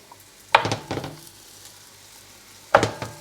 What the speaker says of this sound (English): So I got my pan super hot, we're just going to sear off the meat